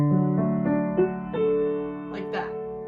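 Piano arpeggio, a broken chord rolled upward note by note with sustained ringing tones, close and moderately loud; faint voice-like sounds near the end.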